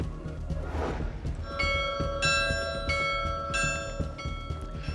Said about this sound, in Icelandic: Kirkjuklukkur hljóma á ný í Grímsey.